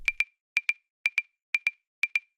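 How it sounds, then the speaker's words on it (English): An offbeat clave loop in a melodic house track: five evenly spaced pairs of sharp, bright wooden clicks in a steady, sparse rhythm, alone and fairly quiet. "let's also add this offbeat clave loop"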